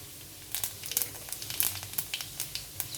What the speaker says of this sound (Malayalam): കടുക് പൊട്ടിക്കഴിഞ്ഞാൽ പെരിഞ്ചീരകം ഇടും.